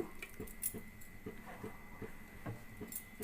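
Bajji batter mixed by hand with onion, green chilli, ginger, curry leaves and cumin, giving soft wet squishing pulses in an uneven rhythm, close and quiet.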